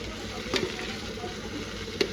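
Tomatoes and onions fry in oil with a close, dense sizzle, and two short scraping stirs cut through the bubbling.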